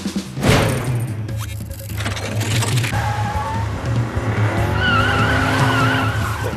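A car drives hard with its tires skidding and squealing, a loud sustained engine roar under long screeching tire bands that rise and fall, close by with no talk.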